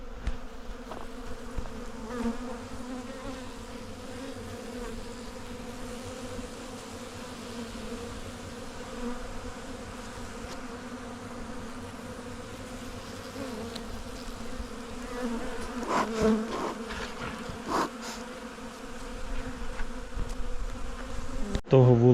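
Honey bees buzz in a steady, dense drone at an opened beehive in an apiary while the nest is prepared for winter, with occasional close fly-bys and faint handling knocks near the end.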